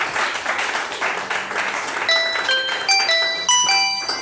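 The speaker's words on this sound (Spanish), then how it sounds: "Dele ese aplauso al Señor." A church congregation claps in praise during a prison evangelism service. Dense clapping fills the first half, then bright sustained keyboard or synth notes step upward over the fading applause.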